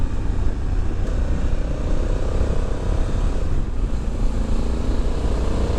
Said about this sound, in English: Listen to that engine. That's with the stock exhausts.